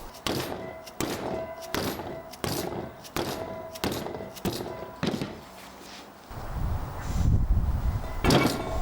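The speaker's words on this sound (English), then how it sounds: "you gotta take a rubber mallet and just kind of knock it out" A rubber mallet knocks a tight piston housing out of a Porsche 944 brake caliper during a rebuild, giving about eight sharp, evenly spaced thunks close by, followed by duller handling and scraping sounds.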